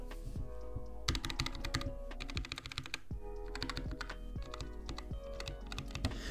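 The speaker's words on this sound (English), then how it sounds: "Let's take a look at what the keys sound like." Typing on a Cooler Master SK622 wireless 60% mechanical keyboard fitted with TCC linear red switches, heard up close as bursts of fast, light keystrokes with short pauses between runs.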